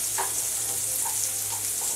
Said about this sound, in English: Now we're going to put some onions in. Saute some onions.